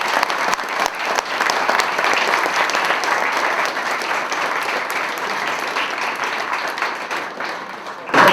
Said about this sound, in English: Give Coach a round of applause.